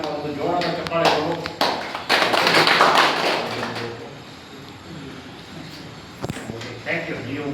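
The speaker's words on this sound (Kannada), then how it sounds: "ಒಂದು ಜೋರಾದ ಚಪ್ಪಾಳೆಗಳು." Loud applause from an audience at a farmers' association meeting in rural Bangalore, a dense burst of clapping that swells for a few seconds, then thins out, with voices mixed in at the start.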